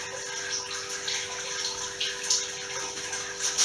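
Wort draining from the inner tub of a Grainfather brewing system, a faint continuous trickle and splash of liquid with occasional brighter drips and a steady hum underneath.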